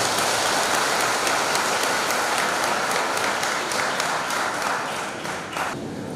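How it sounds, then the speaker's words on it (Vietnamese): A church congregation at a Catholic wedding Mass applauds the newlyweds, a dense, steady burst of clapping from many hands that fades slightly toward the end. "Chúng ta cùng vỗ một tràng pháo tay để chúc mừng."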